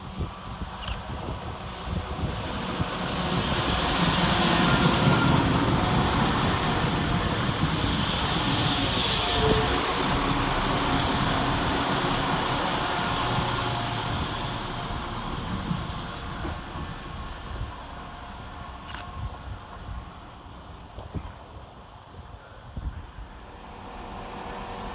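Class 172 diesel passenger trains rumble and clatter past at Birmingham Moor Street station, a long steady roar swelling then slowly fading, with occasional sharp metallic squeals.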